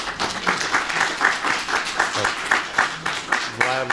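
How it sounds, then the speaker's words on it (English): Steady applause from a room full of people carries through, while a voice speaks briefly over the clapping. "join in the applause"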